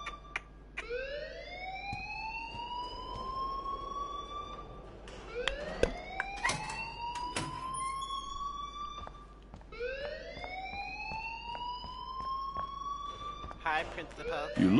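An alarm in the video game Life is Strange wails in repeated rising sweeps, about three cycles, loud and insistent, while people talk over it.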